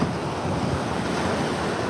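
Wind buffeting the microphone over steady ocean surf on a beach at sunset, a constant broad rushing roar with no voices.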